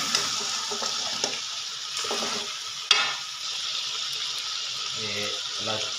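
A ladle stirs and mixes paya, trotters cooking in a pot, giving a steady hiss with scraping strokes and one sharp knock near the middle; a voice talks softly over it at times.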